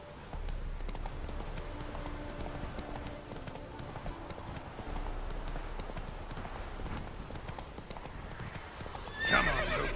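Roach, a horse in The Witcher 3 video game, gallops in a steady clip-clop of hooves. A short neigh comes near the end, over soft rain-like ambience.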